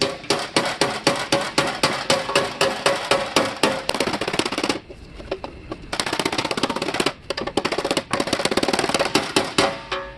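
Rapid, evenly spaced hammer blows ring out on an aluminum breastplate, loud and close, in long runs broken by two brief pauses.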